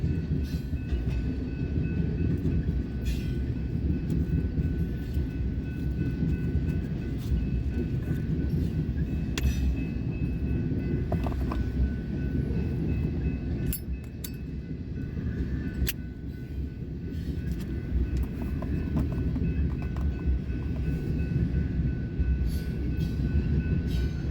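A southbound freight train rolls past on the Sioux City subdivision near Ashland, Fremont and Omaha, a steady loud rumble of wheels and cars lasting throughout with faint clicking of rail joints and no talk.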